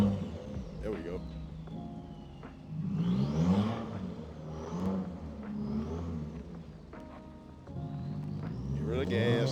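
Subaru WRX engine revving on an icy surface, rising and falling in several bursts of acceleration with tire and road noise, while people talk loudly throughout.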